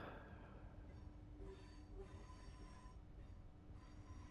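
Cab sounds from a Hitachi Avanti West Coast Class 805 train in a train simulator game: a steady low rumble of the moving train with faint thin squealing tones above it, continuous and fairly quiet, with no talking.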